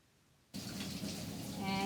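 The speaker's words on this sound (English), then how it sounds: "we're going to turn the water off with the paper towel so we don't get our hands dirty again" Water from a sink faucet starts running suddenly and keeps flowing steadily, close and moderately loud, as soap is rinsed off hands in a kitchen.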